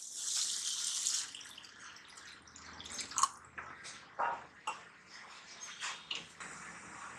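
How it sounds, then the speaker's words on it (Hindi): Water pours into simmering curry gravy for kofta in a pan, starting with a steady splashing stream and then breaking into scattered drips and bubbling pops, close and moderately loud. "इसमें हम पानी ऐड करेंगे"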